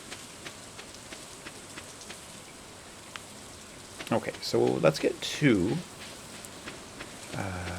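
Rain patters steadily on a Stardew Valley farm, a soft constant hiss of drops beneath someone speaking briefly in the middle.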